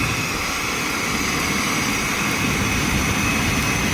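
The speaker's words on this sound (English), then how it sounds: "we got Uno with the blower out" A leaf blower roars steadily and loudly up close while fanning a campfire at an East Harbor campout, a constant whooshing drone without pauses and without speech.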